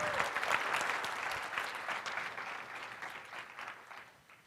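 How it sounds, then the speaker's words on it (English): Conference audience at JSConf Hawaii applauding the event organizers and volunteers, a full burst of clapping that gradually thins and fades toward the end. "can we get a round of applause for all of the organizers"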